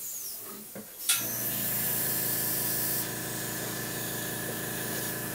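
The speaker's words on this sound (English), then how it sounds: "I have a waste cup over in my spray booth, and I'll blow some of that out just to" An airbrush blasts leftover paint out into a waste cup in a spray booth, a sudden loud hiss of air that starts abruptly and holds steady, easing slightly partway through, with no talking.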